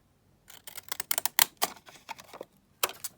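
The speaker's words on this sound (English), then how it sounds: "I'm going to just cut around it again with the zigzags" Zigzag craft scissors snip around a paper postage stamp, a quick run of crisp, close cutting clicks in uneven bursts with short pauses between, loud and dry against a quiet room.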